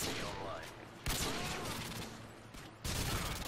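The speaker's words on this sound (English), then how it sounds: "There was somebody behind me just shooting right now." Gunfire in the video game Modern Warfare 2, with a sniping setup, comes as loud bursts of rapid shots with abrupt onsets, under some talk.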